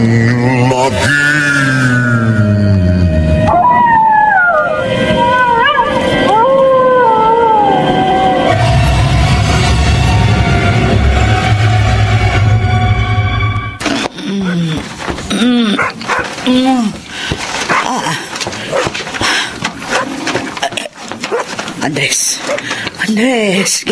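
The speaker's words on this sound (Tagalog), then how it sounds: "Nag-iingay yung mga hayop sa labas." Dogs barking, yelping and howling outdoors at night in a rural setting, the calls rising and wavering over a steady low drone, then giving way to choppy voices and movement in the second half.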